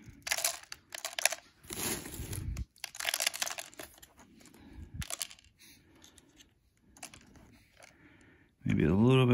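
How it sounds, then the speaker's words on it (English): Dry cereal gets tossed onto a floor to test a robot vacuum, landing in several bursts of light crunchy rattling pieces, close by, with quiet pauses between throws and a person talking in places. "let's throw a little bit of cereal in here"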